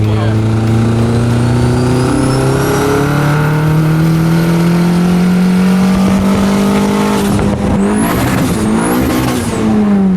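A loud turbocharged Mk4 Volkswagen Jetta engine revs and climbs steadily in pitch as the turbo spools up, with a rising whine on top; a voice speaks briefly over it.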